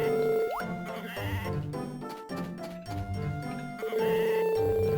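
Sheep bleat in a video game over busy background game music, with a few clear cries rising above the tune and a bright jingle at the start.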